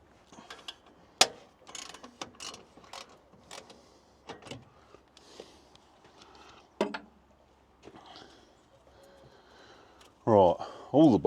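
A ratchet loosens the exhaust manifold bolts on a JCB Fastrac, giving close, sharp clicking bursts and metallic knocks spaced irregularly through a quiet workshop, ending with louder whirring pulls.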